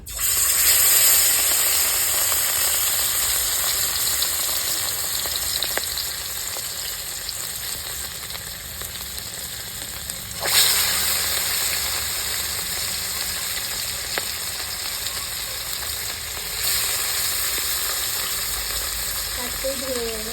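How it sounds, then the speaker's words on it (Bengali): Fish fry in hot oil in a rustic village kitchen, giving a loud, steady sizzle and hiss that runs throughout. A few brief spatters and stirring touches occur, and a voice speaks faintly near the end. "তেল গরম হয়ে গেছে এবার মাছ ভেজে নেবো"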